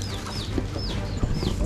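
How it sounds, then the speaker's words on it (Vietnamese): Chickens cluck close by while about ten chicks peep in repeated high chirps, with the low muttering of the flock continuing throughout. "Gà con, có đàn gà con chục con mà."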